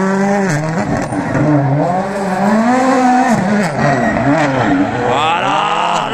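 A rally car at the Monza Rally shakedown revs hard while drifting, its loud engine note rising and falling in repeated surges close by, with no talking.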